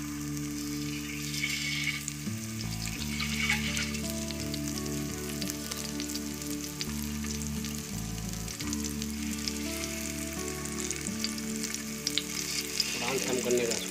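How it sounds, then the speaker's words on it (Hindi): Boiled eggs fry for egg masala in a little hot oil, a continuous soft sizzle running throughout with faint stirring and a low steady hum beneath. "थोड़ा तेल गर्म इस पर डालने का।"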